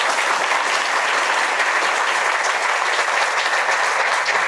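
Students at a school welcome event applaud steadily, a dense and even wash of many hands clapping together without pause, loud and close throughout.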